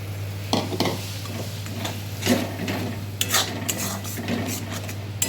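Spinach paste being sautéed with spices in a pan for palak paneer, with scraping and clinking of a spatula against the metal pan over a low sizzle, irregular close stirring strokes above a steady hum.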